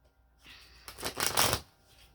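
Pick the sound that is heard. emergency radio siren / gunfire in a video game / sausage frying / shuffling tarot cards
shuffling tarot cards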